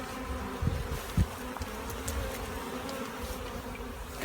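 Dense, steady hum of honeybees buzzing inside a shipping package during a package install, a continuous close drone with a few brief knocks and handling bumps.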